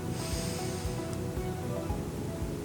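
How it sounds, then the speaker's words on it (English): A deep breath drawn in during a breathing exercise, a steady rushing airflow close to the microphone lasting a couple of seconds with no talk. "So we're going to take a deep breath in."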